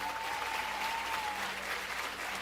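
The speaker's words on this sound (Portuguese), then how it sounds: "Você pode aplaudir ao Senhor." A church crowd claps steadily and warmly throughout, sustained applause with a faint musical tone lingering in the background.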